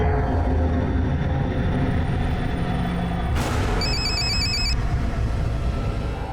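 A telephone rings with a short burst of high electronic trills over a dense, rumbling background.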